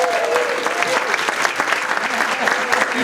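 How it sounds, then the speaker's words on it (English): A church gathering at St Thomas Episcopal applauds four volunteers, producing moderate, evenly sustained clapping from a modest crowd, with a voice briefly speaking over the start. "Let's give them a round of applause."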